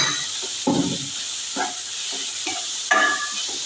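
Green chillies and onion sautéing in a hot pan, a soft continuous sizzle broken by several distinct stirring scrapes and spurts of hiss, close and alone.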